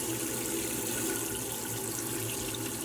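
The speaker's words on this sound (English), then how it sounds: "you can then come over to the tap here and pull the water through however you'd like to" Cold water runs steadily from the tap of a Burstner Ixeo 664 motorhome, a continuous close splashing flow with no voices over it.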